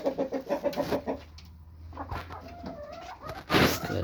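Hens cluck in short bursts nearby, with pauses and a louder rustle or scuffle toward the end.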